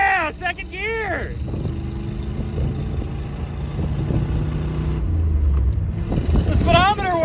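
A 1967 Ford Galaxie on the road for the first time in eight years after long storage, its engine running steadily in second gear. A loud, continuous rumble builds through the drive, with people talking inside the car.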